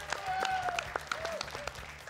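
Studio audience applauding a contestant on the Bulgarian TV game show Bingo Millions, moderate clapping over steady show music with tonal sweeps, sustained through the short stretch.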